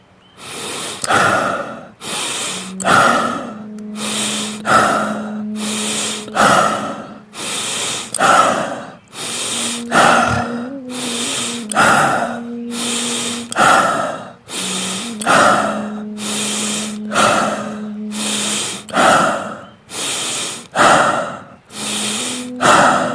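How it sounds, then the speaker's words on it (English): Deep, forceful stomach breaths in a breathing exercise repeat in a steady rhythm, each loud inhale and exhale close up with audible rushing air, some with a faint humming tone, and no talk. "And we begin with stomach breathing."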